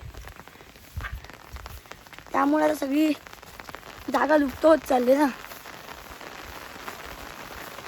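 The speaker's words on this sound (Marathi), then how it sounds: "त्यामुळे आता पाऊस पण आला" Steady rain falls on an open rural homestead in the Konkan countryside, a constant hiss running the whole time, with a voice talking over it in two short stretches.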